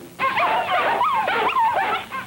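Cartoon dogs from a 1958 Noveltoons short whimper and yip in loud, close, wavering cries that rise and fall continuously for about two seconds.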